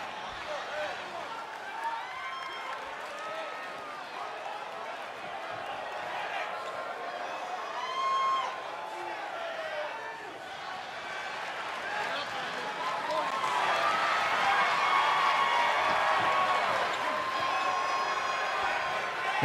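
A wrestling arena crowd in WWE 2K24 roars and cheers steadily, swelling louder toward the end, with a commentator talking over it throughout.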